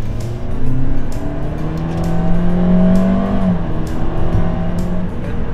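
A car accelerating in manual mode from first gear: a loud steady engine drone rising in pitch, dropping briefly at gear shifts and climbing again, heard from inside the car.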